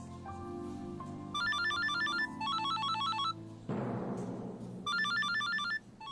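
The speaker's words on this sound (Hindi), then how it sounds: "दीदी फोन बज रहा है।" An electronic ringtone chimes in repeated bursts of bright beeping notes over a low background tone, loud and near, with no talking.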